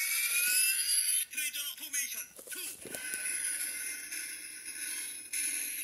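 Tinny electronic sound effect from a Power Rangers Treasure Force Treasure Gun toy after it rolls across the floor, a bright buzzy tone with warbling bits and light rattling in the middle, playing close for several seconds.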